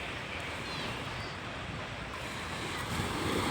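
Surf washes steadily onto the white sand beach at Repulse Bay, Hong Kong, a constant rolling roar of waves mixed with wind buffeting the microphone, no voices.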